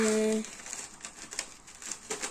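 A plastic bag of cornflakes is torn open and rustled, a brief crinkling sound close by right after a short bit of speech.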